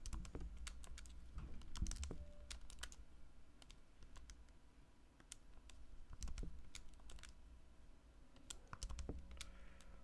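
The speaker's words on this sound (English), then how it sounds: "Okay, typing this in." Quiet typing on a computer keyboard while entering a problem into a numeric solver: irregular bursts of soft key clicks with short pauses, close and faint against low room noise, with no talking.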